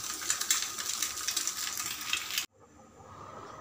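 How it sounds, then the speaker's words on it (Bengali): An egg frying in a pan for an egg poach: steady crackling sizzle for a couple of seconds, then cutting abruptly to a much quieter hiss. "কইরা এখন করতেছি ডিমের পোচ"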